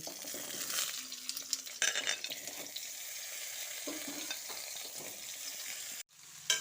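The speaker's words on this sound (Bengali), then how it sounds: "প্রথমে আমি এখানে ওলকপিগুলোকে দিয়ে ভেজে নেব" Kohlrabi frying in mustard oil in a wok, with a constant hissing sizzle, occasional stirring scrapes and clinks of a utensil against the pan, then a sudden drop and a soft clunk at the end.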